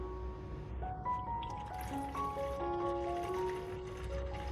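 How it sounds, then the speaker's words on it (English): Nutrient water for orchids is poured into a clean bottle, its pitch rising steadily as the bottle fills, a close gurgling trickle that runs unbroken for several seconds. "Next, we will prepare a clean bottle, then pour the collected nutrient water into it."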